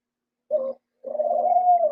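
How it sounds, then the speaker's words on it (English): Doves coo in two separate calls, a short soft hoot and then a longer drawn-out coo, heard alone and fairly close against otherwise silent background. "that sound in the background are doves. They coo a lot."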